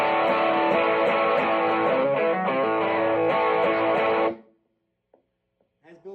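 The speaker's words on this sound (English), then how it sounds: "So this is with a blues driver on," An electric guitar played through an amp with a Blues Driver overdrive pedal rings out loud and sustained for about four seconds, then cuts off, leaving near silence and a few faint clicks.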